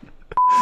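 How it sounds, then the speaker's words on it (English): A sharp, loud censor beep used to cover swearing in ARMA 3 gameplay, a single steady tone cutting in abruptly after brief faint sounds. "I gotta beep all of this, by the way, in the video."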